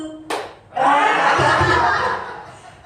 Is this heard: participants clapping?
yes